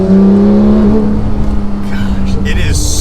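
Naturally aspirated flat-six of a 991.2 Porsche 911 GT3 revving loud and close, a rising then steady engine note heard from inside the car, with someone talking over it.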